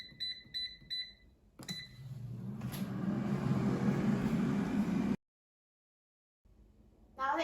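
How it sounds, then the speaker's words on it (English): Air fryer making chocolate croissants from crescent rolls: a few sharp electronic beeps, then the appliance's fan hum and whoosh running close for a few seconds before cutting out abruptly. "Now the air fryer is done cooking"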